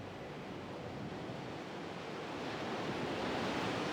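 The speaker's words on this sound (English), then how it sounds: "there's nothing but ocean in front of you." Ocean surf washes onto the shore at the northern end of a coastal journey, a broad, steady roar of breaking waves that swells slightly louder toward the end, with no voices.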